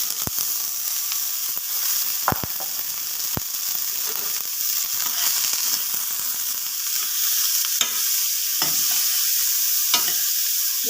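Chopped raw papaya and onion sizzle steadily in a pan for a Kerala thoran, with sharp scraping clicks of a spoon stirring at intervals, close and fairly loud with no talking.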